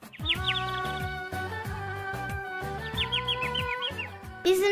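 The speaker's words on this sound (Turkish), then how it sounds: "Bir kuş sesi geliyordu odadan." Bright, repeated chirps and tweets from a small bird ring out over a steady background of music.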